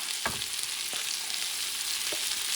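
Cooked rice being stirred into pork ribs in a pot, a soft continuous sizzle with a few scraping stir strokes, close and fairly quiet.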